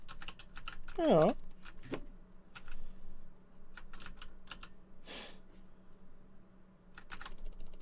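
Rapid mouse and keyboard clicking while playing Supermarket Together comes in dense bursts of sharp, close taps separated by short pauses, with a brief spoken word and a short vocal sound mixed in.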